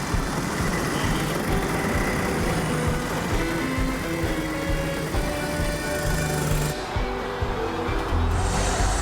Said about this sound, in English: Okay, drivers, if you'd like to start your engines, please.